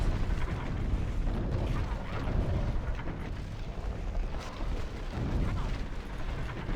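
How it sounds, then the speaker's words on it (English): Catapults fire in Battle for Middle-earth during an online Rohan versus Mordor match, a dense rumbling stream of launches, mechanical clanks and impacts heard at a distance with no pause throughout. "The catapults are marching."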